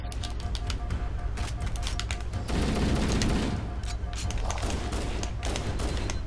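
Rapid pistol shots fired in Halo: Combat Evolved against the Flood, sharp clustered cracks repeating over a dense game mix of explosions and background noise.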